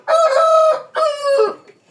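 A Japanese breed rooster crows loudly and close by, giving two short drawn-out calls with a brief gap between them and silence afterward.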